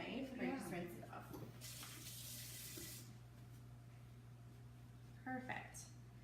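Tap water runs into a kitchen sink as a knife is rinsed, a hissing splash that rises and fades over a few seconds, with people talking before and after it.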